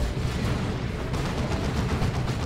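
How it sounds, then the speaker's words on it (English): A lascannon fires at a Grey Knight Dreadnought in the strategy game Dawn of War 2, part of a dense, continuous wash of battle blasts and rumbling explosions with no voices over it. "Laz Cannon getting shots on that Grey Knight Dreadnought."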